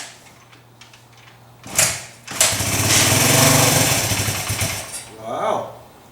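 A 1982 Yamaha XT200 motorcycle is kick-started cold: a sharp clunk of the kick, then a brief silence, then the single-cylinder engine catches and runs loudly and roughly for a couple of seconds before fading.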